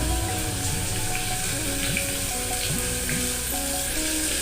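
Potatoes sizzling and frying steadily in a pan in a home kitchen, a constant close crackle with faint clinks and running-water sounds in the background; no talking.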